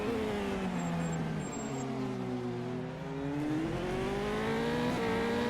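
An onboard Formula 3 race car brakes into a hairpin at Hockenheim. The engine tone drops and shifts as the driver slows, then rises again in a loud, continuous whine.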